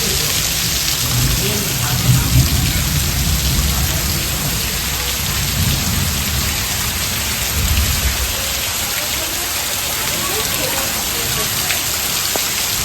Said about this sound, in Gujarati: અત્યારે વરસાદ ફૂલ આવી ગયો છે પાણી પાણી કરી દીધા